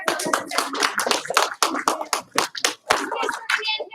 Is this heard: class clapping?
yes